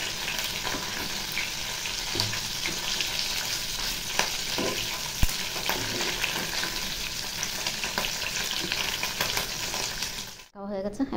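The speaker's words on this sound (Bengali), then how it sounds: "একটু মাছ ভাজা বসিয়েছি," Fish sizzles steadily in a pan on a home kitchen stove, a dense, continuous frying crackle with occasional sharper pops and stirring sounds, close and alone before cutting off abruptly near the end.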